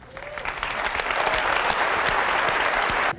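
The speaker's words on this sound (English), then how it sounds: "Let us give them a round of applause." A large Apple keynote audience bursts into loud, sustained applause that swells quickly and stays dense until it cuts off abruptly at the end.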